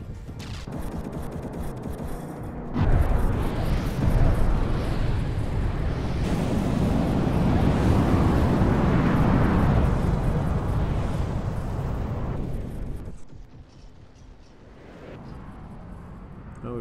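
Enemy warship firing back in the naval combat game From the Depths, a long rumbling barrage of heavy booms and crashing impacts swelling over about ten seconds before cutting away to a quieter engine drone.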